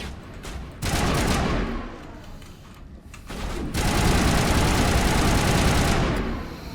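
Semi-automatic sniper rifle firing in Mass Effect, dense bursts of loud cracking shots in two long stretches separated by a brief lull, close and heard alone.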